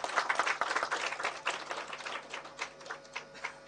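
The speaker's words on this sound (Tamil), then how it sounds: "அதுக்கு எல்லாருமே ஒரு கைத்தட்டல் கொடுத்துருவோம்" Audience applause at a Tamil movie pre-release event, a brief burst of many hands clapping close by, dense and lively for a few seconds before gradually thinning.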